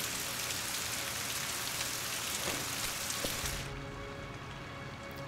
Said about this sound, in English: Like, walking through the rain,